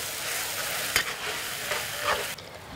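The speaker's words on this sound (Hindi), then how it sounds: "मसाले डालकर हम अच्छे से भूनते हैं।" Spices fry with browned onion in hot oil for a drumstick curry, making a continuous close sizzle broken by a few scraping stirs.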